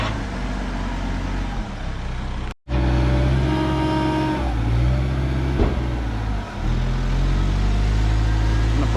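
V8 Scania truck engine roaring and revving hard while pushing a big burnt combine harvester onto a trailer, loud and close, with the pitch rising and falling through a sustained heavy drone and one brief dropout.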